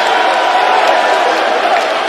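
A loud boxing crowd on its feet cheering during a professional lightweight bout between Eric Quarm and Michael Ofei Dodoo, a dense, sustained roar filling the arena without a break.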